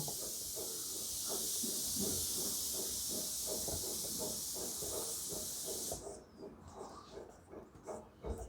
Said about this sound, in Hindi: किसी का कुकर बज रहा है,